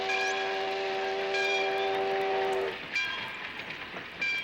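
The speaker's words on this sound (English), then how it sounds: "it's just about time for the 2:15 express train." An express train sounds a long, loud horn that cuts off after nearly three seconds, followed by rattling wheels and clattering cars passing close by.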